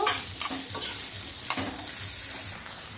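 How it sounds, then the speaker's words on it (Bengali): Chopped onions fry in oil toward crisp browned beresta for chicken dum biryani, a dense close hiss with occasional stirring scrapes and crackles and no voices. "পেঁয়াজ কুচিগুলো আমি দিয়ে দিচ্ছি দিয়ে সুন্দর করে লাল লাল করে একদম বেরেস্তা তৈরি করে নেব"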